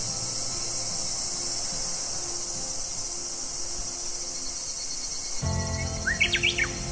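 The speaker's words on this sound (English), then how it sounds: "Birds are singing." Outdoor ambience on a bright day with a steady bed of insect-like chirring, joined near the end by a few short, high bird chirps close by.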